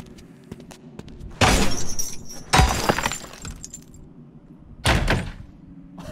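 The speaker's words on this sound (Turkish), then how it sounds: "kapıyı biri var mıdır diye yavaşça açmak yok. Tekmeleyerek açıyoruz." Doors are kicked open in the zombie game The Walking Dead Onslaught, three loud splintering crashes arriving one after another with pauses between them, each ringing with glassy debris over a quiet background.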